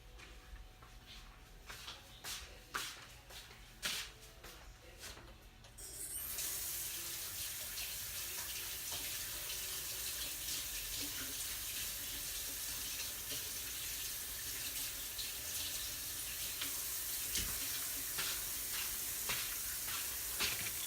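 Hands being washed under a kitchen tap while cooking crispy chicken, a faint sizzle first, then running water gushing steadily and close for about fifteen seconds with small splashes.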